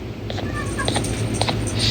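A cat meows briefly several times over a steady low background hum, the cries fairly faint and short.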